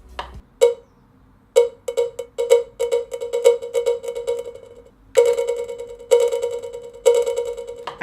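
A ping pong delay effect on a Pioneer DJM-900NX2 mixer bounces bright, cowbell-like percussive hits back and forth. Each strike trails off into rapid repeating echoes in a steady, rhythmic pattern, with no voices.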